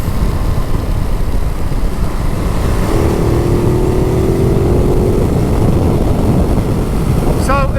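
A 2016 Ducati Multistrada 1200 DVT motorcycle with the newer engine drones steadily during a test ride, its engine tone rising slightly under loud, constant wind rush from riding.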